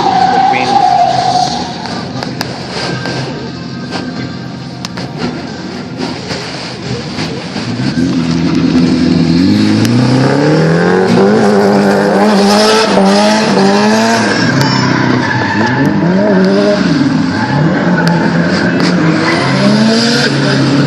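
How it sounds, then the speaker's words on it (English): A drift car is thrown around the circuit with plenty of handbrake, giving a roaring engine and long wavering tyre squeals that rise in the second half while a commentator talks over them. "That's Joel's applying plenty of handbrake there."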